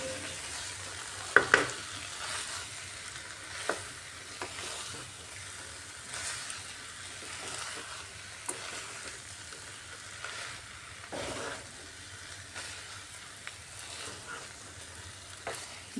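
Boiled kabuli chickpeas and potatoes are stirred and dry-fried in a karai for ghugni, with a soft, low sizzle under intermittent scraping and stirring knocks, fairly quiet throughout.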